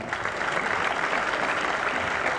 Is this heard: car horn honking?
no